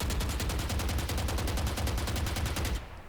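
Unscoped rifle in a shooter game firing as a fast, continuous automatic stream of loud shots in an even rapid rhythm, which stops abruptly just before the end.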